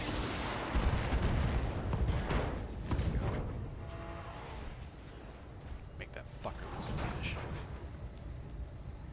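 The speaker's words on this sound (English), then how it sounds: "Firing all weapons." A mech in the video game BattleTech fires all its weapons at once, a dense roar of overlapping blasts and booms that is loud and sustained, with bursts of talk over it.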